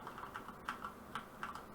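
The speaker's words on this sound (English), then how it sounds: "you can hold Z on your keyboard to Z drop your tracker back onto place" Keys on a computer keyboard are tapped in a light, uneven run of about six clicks, close by and fairly soft, with nothing else audible.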